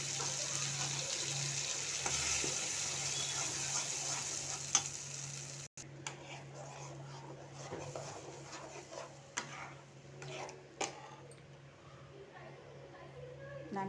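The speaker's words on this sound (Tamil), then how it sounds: "நல்லா கொதிக்கட்டும்." Paneer kurma gravy sizzles and bubbles in a pan with a steady fry hiss, punctuated by occasional stirring clinks, while someone talks throughout.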